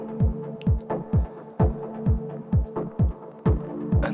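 A dub techno synth chord stabs rhythmically about twice a second, each hit with a deep, thumping low end and a reverb and echo tail washing out behind it, with no voices.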